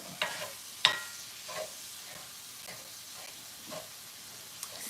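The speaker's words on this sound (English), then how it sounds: "I think I'm gonna heat the black beans up in the skillet too." Black beans heat in a skillet with a faint, low sizzle, broken by a few sharp scraping clicks of stirring.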